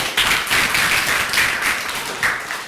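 A room full of people claps together at a lecture on financial freedom, a steady burst of dense, continuous clapping lasting a few seconds at moderate loudness with no voices over it.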